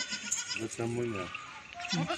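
A dairy goat bleats close by on a farm where goats with kids are kept, several short wavering cries, with someone talking around them.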